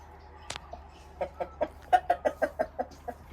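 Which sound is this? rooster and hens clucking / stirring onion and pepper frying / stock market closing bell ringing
rooster and hens clucking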